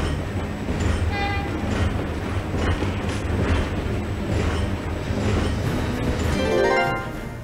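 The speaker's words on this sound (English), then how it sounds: "So the train's gonna take off." Train pulling away in Valkyria Chronicles 4, a steady loud rumble of rolling wagons with rhythmic rail clatter and some metallic squeals, continuous through the whole stretch.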